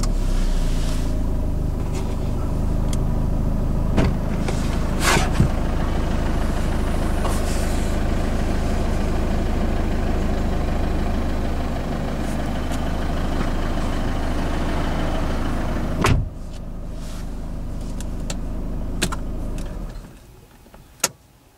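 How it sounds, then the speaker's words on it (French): A car engine idles with a steady low hum for most of the stretch, with a few brief clicks and a door-like thump near the end before the sound drops away. "Mettre le moteur en marche et ouvrir la portière."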